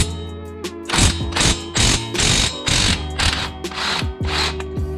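Pneumatic impact wrench hammering loose the coilover strut bolts on a Scion FR-S during a Tein coilover install, several loud rattling bursts of about half a second each, close up and with no talk.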